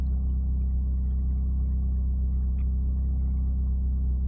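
A 1996 Eclipse engine idles with a steady low rumble, close and constant, settling lower in speed without any voices.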